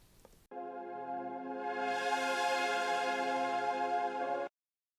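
A sustained synth pad from a metal producer preset pack holds a rich harmonic chord for about four seconds, its filter cutoff opening to brighten the upper tones midway, then cutting off abruptly into silence.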